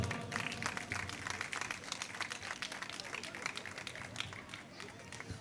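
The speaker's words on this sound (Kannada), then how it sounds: "ಸಂಗೀತ ಸ್ಪರ್ಧೆಯಲ್ಲಿ ಬಹುಮಾನವನ್ನು ಪಡೆದ ಈ ಪುಟ್ಟ ಪ್ರತಿಭೆಗೆ ನಿಮ್ಮೆಲ್ಲರ ಚಪ್ಪಾಳೆಯ ಆಶೀರ್ವಾದ." An audience at a Nandagokula 2025 stage program claps for a young music competition prize winner, producing continuous, fairly dense applause with some voices and crowd noise mixed underneath.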